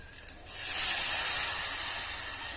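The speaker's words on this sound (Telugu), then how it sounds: "ఇప్పుడు నానబెట్టుకున్న చింతపండు మనం రసం తీసుకొని వేసుకుంటామనండి" Soaked tamarind juice goes into a hot pan of fried peppercorns and garlic for pepper rasam, a sudden loud hissing sizzle that starts half a second in and stays strong, tapering slightly, with no voices.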